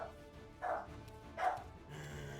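Dogs barking in the fantasy RPG Pathfinder: Wrath of the Righteous: two distinct barks about a second apart, moderately faint and set against a low game soundscape.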